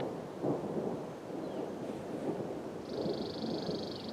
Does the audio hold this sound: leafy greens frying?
no